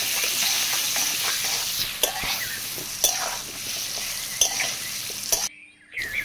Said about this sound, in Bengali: আলুটাকে নেড়ে চেড়ে খুব সুন্দর করে আলুটাকে ভেজে নেব